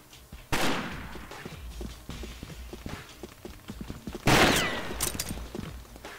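Gunfire exchange in a competitive esports shooter match, with sharp bursts of shots and rapid cracks, including two loud volleys, over a steady background of game noise.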